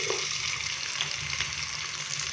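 Chopped onion frying with whole spices gives a steady, close sizzle that hisses evenly throughout without a pause, with faint stirring scrapes underneath and no talking.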